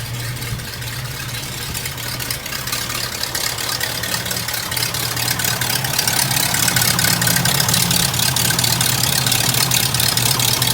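A hearse engine idles steadily with new exhaust work fitted, giving a constant low drone with a fine ticking pulse that grows slightly louder over time.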